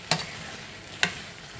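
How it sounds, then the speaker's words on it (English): Two quick scrapes of a spoon stirring potatoes and onions with sugar and soy sauce in a hot pan, a light sizzle underneath, close and brief. "we're just gonna give this a good mix up and a stir just to get those flavors jamming"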